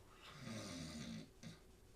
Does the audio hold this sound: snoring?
yes